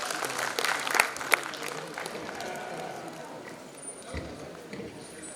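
Audience applause for a guest legislator at a homeopathy conference, a crowd clapping steadily with a couple of sharp close claps early on, gradually easing off.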